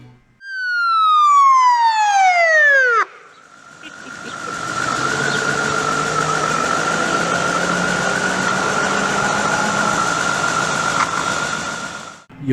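An old mechanical siren on a 1978 Dodge Monaco fire battalion chief's car winds down loudly in a falling wail. A sustained tone and engine noise follow, then it rises again, with traffic underneath.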